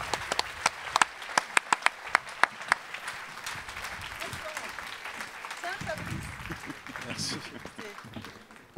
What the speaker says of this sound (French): Je vous demande d'accueillir en tout cas Maïtena Biraben sous un tonnerre d'applaudissements